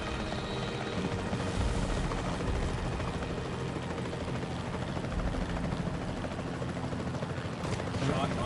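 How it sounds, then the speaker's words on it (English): Capture team helicopter in the video game Jurassic World Evolution 3, a loud continuous rotor and engine roar that holds steady throughout with no pause. "The priority needs to be tranquilizing it with the capture team chopper."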